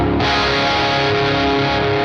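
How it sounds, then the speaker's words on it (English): Electric guitar played through an overdrive stage of the Neural DSP Archetype Plini plug-in, a dense sustained distorted tone with thick harmonics, loud and steady for about two seconds with no talking. "So let's throw on the overdrive."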